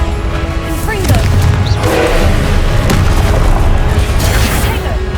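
Fiery spell explosions from the Confringo charm in the wizarding video game Hogwarts Legacy, a run of deep booming blasts and crackling bursts over a loud, continuous rumbling game soundscape.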